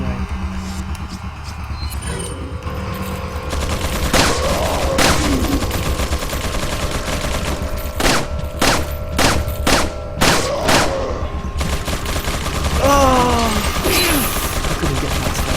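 Gunfire from shooting an enemy in Resident Evil 4 on professional mode: a few scattered shots, then a rapid cluster of sharp, loud cracks over steady game ambience, with no one speaking.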